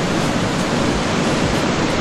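Waterfall at El Salto in La Fortuna, Costa Rica, a steady, dense roar of falling water close by, continuous and loud with no voices over it.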